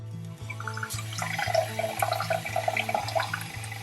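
Water spraying from a bidet in a home bathroom, a steady hissing stream with a gurgle of splashing, fairly close, over a low humming tone, with no talking.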